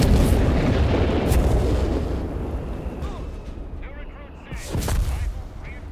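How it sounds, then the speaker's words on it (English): Stuka dive-bomber drops its bombs in Company of Heroes 3, a dense roar of heavy, overlapping blasts that fades, then a second burst of explosions near the end. "Stuka bomb drop here"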